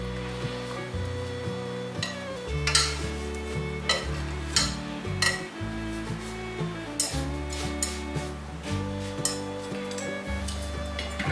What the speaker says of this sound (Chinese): 盖上盖子，慢慢的煎至金黄色